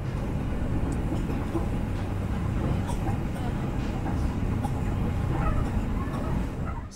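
Steady rumble of an Indonesian Malioboro Express economy-class passenger train on the move, nearing its final stop, with constant low rolling noise and faint clatter throughout and no clear voices.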